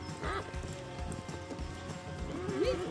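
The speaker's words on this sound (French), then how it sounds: "malgré les hennissements de la copine qui, elle, n'était absolument pas d'accord" Horses neigh and whinny against a steady rural background with a brush cutter running and hooves clip-clopping; a loud, wavering whinny comes near the start and another rises clearly toward the end.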